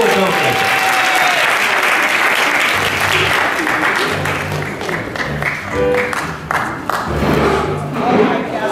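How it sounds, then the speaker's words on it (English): A school drama audience applauds and cheers for alumni, loud and sustained clapping with shouts and whoops, with voices mixed in throughout. "Let's clap for our alumni."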